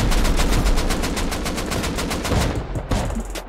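Rapid, loud bursts of automatic gunfire in the survival game Rust during a base raid, sustained shots in quick succession for several seconds, with a short pause near the end before firing resumes.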